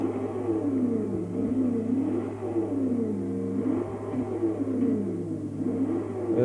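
A 1969 Dodge Charger Daytona Hemi in Forza Horizon 2 revs in a deep, rhythmic rumble that rises and falls in repeated swells, steady and fairly close with no talk.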